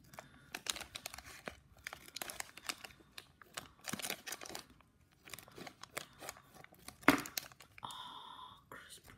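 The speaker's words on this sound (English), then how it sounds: "I'm actually going to cut it like this." Scissors cutting open the plastic of a Harry Potter collectable wand blind bag, with close snips amid crinkling and rustling of the packaging and soft, quiet handling noises throughout.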